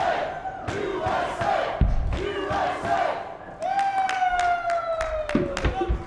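Spectators at a 2019 Weber Cup bowling match get loud, shouting and cheering in bursts with scattered claps and thuds, voices rising and falling across the few seconds.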